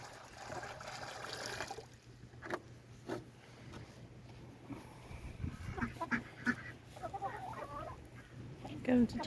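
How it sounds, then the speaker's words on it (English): Chickens and a rooster cluck around a chicken tractor, with soft scattered calls and rustling at a distance, and ducks may be among them. The sounds rise toward the end, and faint voices murmur in the background. "Comes the chickens."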